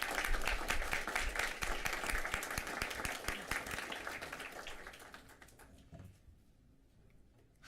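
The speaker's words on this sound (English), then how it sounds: "Can we have a round of applause for them, please?" An audience at a school district board meeting claps in a dense round of applause that holds steady and then thins and fades to near silence over the last couple of seconds.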